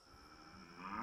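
A cartoon alien voice imitates a cow, giving a single drawn-out, low, mooing call that rises in loudness toward its end, heard alone and fairly faint.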